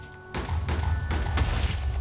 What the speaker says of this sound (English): They're blunderbusses and pistols and all that kind of stuff.